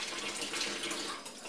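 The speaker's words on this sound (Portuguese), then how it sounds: "e passo a água ali, ó, fica bem limpinho" Running tap water splashes steadily over meat being rinsed for feijoada, a continuous close hiss and patter with no talking.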